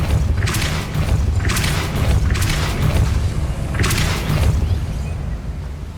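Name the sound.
Depulso spell effect in Hogwarts Legacy video game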